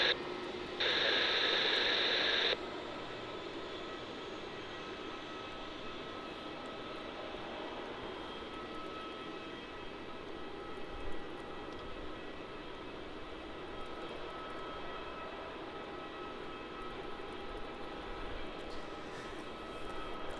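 A Jetstar airliner at Melbourne Airport produces a steady, fairly distant engine roar that holds throughout, with a brief electronic tone sounding near the beginning.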